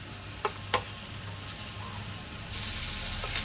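Homemade garlic-coconut paste sautéing in a pan for jackfruit kofta curry, a soft steady sizzle with a couple of brief stirring clicks and scrapes near the start, the frying growing slightly louder toward the end, no talk.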